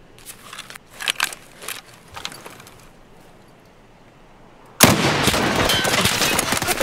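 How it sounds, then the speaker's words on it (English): Gunfire in the video game Escape From Tarkov, including an SA-58 rifle: a few sharp close shots spaced out in the first seconds, a quieter lull, then a sudden loud sustained burst of dense, crackling fire. "He's shooting at me."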